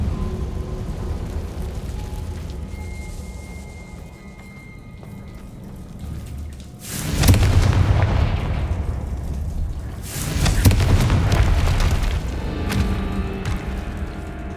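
Two deep explosive booms from the Confringo blast spell in the video game Hogwarts Legacy break over a quiet ambience, each a sudden loud burst with crumbling, rumbling debris trailing off.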